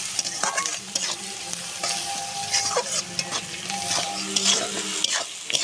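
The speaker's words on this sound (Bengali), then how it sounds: "কাঁচা লঙ্কা আর পেঁয়াজটা এইভাবে আমি ভেজে নেব" Green chillies and onion frying in a pan, a dense close sizzle with continual stirring scrapes and taps of a spatula throughout.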